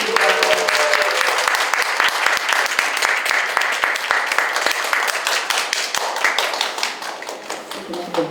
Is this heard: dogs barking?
no